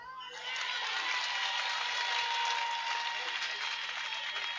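A church congregation breaks into sustained applause and cheering, a dense, even wash of clapping from a large crowd that builds quickly and holds steady throughout.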